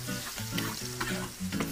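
Preserved mustard greens (yacai) hit a wok of oil reddened with doubanjiang, ginger, garlic and pickled chili, giving a short, close burst of crackling sizzle while being stirred.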